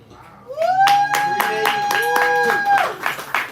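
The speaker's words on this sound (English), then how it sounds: "Y'all can clap or whatever" Audience at a live spoken-word poetry show claps in loud, sharp bursts, several distinct hand claps ringing out together while a sustained musical or vocal tone runs underneath.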